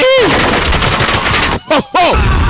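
Loud rapid gunfire from an action movie bursts with sharp cracks and ricochet whines, broken by brief silences before another burst.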